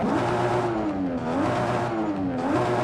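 A Toyota Supra's sport exhaust in Forza Horizon 5 roars and revs in repeated rising surges, loud and continuous, with a hollow, throaty tone.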